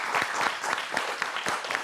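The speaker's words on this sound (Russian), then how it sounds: "Здесь должны быть аплодисменты." Studio audience applauding on a regional talk show, a dense steady wash of many hands clapping at moderate level, uninterrupted and with no voices over it.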